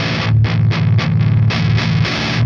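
Loud, dark distorted metal electric guitar, played without the pedal's boost, chugs in short palm-muted bursts separated by brief gaps, a fat saturated tone with no voices.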